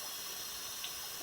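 Tap water runs steadily into a sink during handwashing, a soft continuous rushing and splashing at low level, with no voices.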